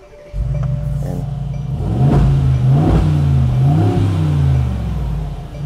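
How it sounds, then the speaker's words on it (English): A Mercedes-AMG G63 V8 with a performance exhaust cranks and fires up, then settles into a deep, loud rumbling idle with a couple of throaty revs. "So let me start the engine up right here."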